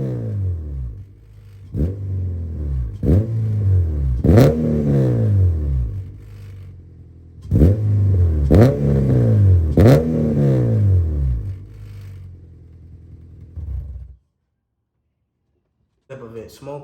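A K24/K20 engine in a 9th-gen car that has been smoking blue is revved in sharp, repeated bursts. Each rev climbs and falls, and they come in two loud clusters. The engine then settles to idle and cuts to silence, with a brief noise at the end.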